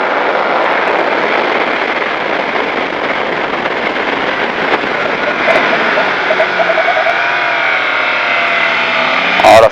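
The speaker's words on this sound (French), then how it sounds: "Et là maintenant on accélère à fond." A race car accelerates at full throttle on the Magny-Cours circuit, a loud, sustained engine roar that rises steadily in pitch over about ten seconds, with a brief shift near the end and no talk.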